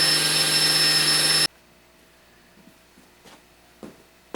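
A power saw whines loudly at steady pitch while ripping wood into an eighth-inch keel strip, then cuts off abruptly after about a second and a half, leaving quiet room noise and light handling clicks.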